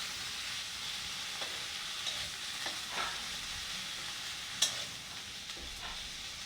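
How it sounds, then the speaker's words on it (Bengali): Dried chapa shutki fish fries in hot oil, giving a steady, close crackling sizzle with a few sharper pops and stirring scrapes along the way. "তো কতক্ষণ সুন্দর করে ভেজে নিব শুটকিটা।"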